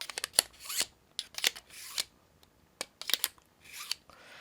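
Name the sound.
scissors being sharpened on knife sharpener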